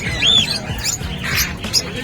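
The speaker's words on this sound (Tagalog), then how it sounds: "tingnan natin mga ibon niya ngayon" Birds squawk at a busy pet market selling opaline birds, a few short harsh calls close by, mixed with faint background chatter and clatter.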